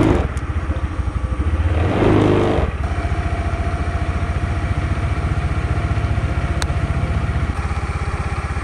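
A Honda Beat motorcycle engine idling close by, a steady low putter with a brief rise in revs early on, then settling back to an even idle.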